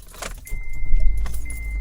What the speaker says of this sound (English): I'm in my car and I'm gonna turn on my car, actually.